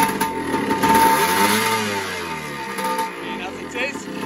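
A 1980 Yamaha IT250G motorcycle engine runs nearby with a steady, mid-pitched drone that swells slightly, under a person talking throughout.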